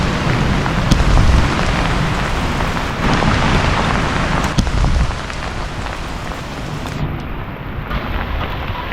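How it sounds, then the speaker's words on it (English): Heavy rain pours down in a tropical storm in Cuba, a dense, loud, steady hiss of drops hitting surfaces, with a few sharp taps and no voices. "Did we get some rain? Oh yeah, it did come down."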